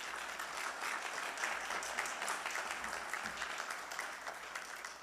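A seated audience at a medical school white coat ceremony applauds the teachers with a sustained, dense wash of clapping that stays steady and full throughout, with no speech over it.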